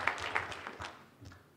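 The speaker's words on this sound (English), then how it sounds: "The other 200 of you, don't worry about clapping" Audience clapping at a live debate event, a brief patter of applause that tapers off over a second or two, fairly faint and thin as if from a modest crowd.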